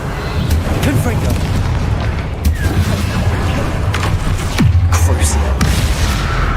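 Rumbling spell blasts and booms from the Confringo explosive curse in Hogwarts Legacy, a dense continuous roar of loud low impacts with sharp bursts near the middle, set amid chaotic game combat noise and shouting.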